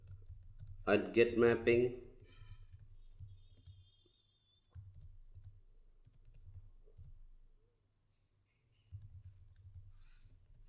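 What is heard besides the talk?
typing code on a computer keyboard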